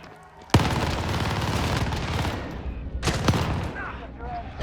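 An AK-47 fires in Call of Duty Warzone on the Caldera map, a sustained loud burst of automatic gunfire starting abruptly and rattling on with a sharper spike partway through.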